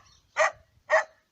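Two sharp, close dog barks land about half a second apart on a quiet farm, each one short and loud, with no talking in between.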